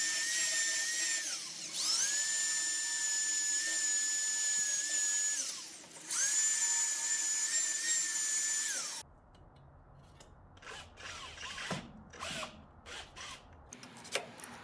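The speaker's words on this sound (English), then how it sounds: "you want to use a masonry bit to drill the screw holes" A loud, steady high-pitched drill with a masonry bit whines in two long runs into brick, with a brief pause between, then gives way to scraping and clattering handling noises.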